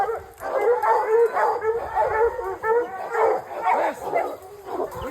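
Several young hound puppies bay, yip and howl together in a close, continuous chorus of overlapping cries, loud and excited throughout.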